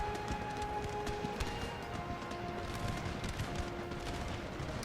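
Cannon fire with canister shot during an assault on an Indian fort in Empire Total War, heard as a dense, continuous crackle of gunfire and distant booms layered over steady battle ambience.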